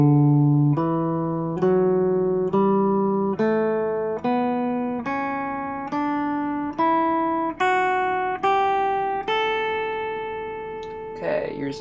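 A dominant scale played on an instrument, about thirteen clean ascending notes in a steady stepwise rhythm, each sustained and bright, close and alone with no talking.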